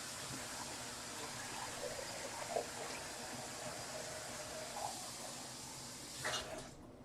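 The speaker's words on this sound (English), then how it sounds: "I want to add more water" Water is poured into a dye mixture during a knitting-yarn dyeing session, a steady faint trickling and gushing running for several seconds, with a brief louder splash near the end.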